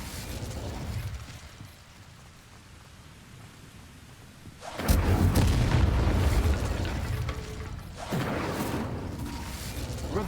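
Incendio fire spell cast in Hogwarts Legacy: a quiet low rumble gives way to a sudden heavy whooshing burst of flame near the middle, followed by a roaring blaze and a second surge a few seconds later.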